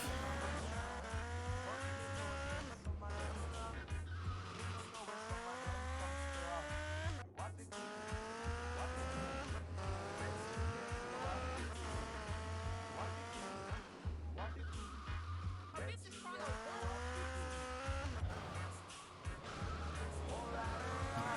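Dense traffic in Grand Theft Auto: Liberty City Stories: car engines drone steadily with repeated revving and skidding tire squeals over a constant low hum, loud and continuous throughout.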